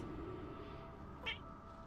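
A pet cat gives a single short meow partway through, faint and fairly close, over a steady low background hum.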